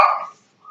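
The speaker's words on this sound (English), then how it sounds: "Sorry about the dogs in the background." Small dogs let out a single sharp bark that fades, then a quieter yip follows, heard in the background of an indoor recording with no talk.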